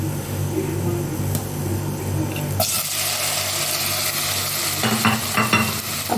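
Marinated chicken goes into a hot pan for a chicken pizza topping and then gets stirred. Quiet kitchen sounds with a voice give way to a sudden loud sizzle, followed by scraping stirs and crackling frying.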